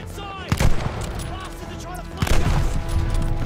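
Rifle gunfire in Call of Duty Vanguard's Battle of El Alamein campaign, with two sharp, booming shot clusters about two seconds apart over a constant rumbling battlefield din, while a voice talks faintly.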